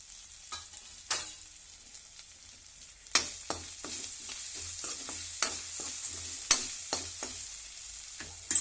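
Cumin seeds sizzle in hot oil as whole spices are fried for a dal and jeera rice lunch, a steady close frying hiss broken by sharp stirring scrapes and clicks, with no voices.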